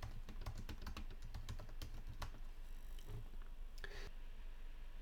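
Rapid, irregular clicking of keys on a computer keyboard while typing in Word, close and steady, with no voices.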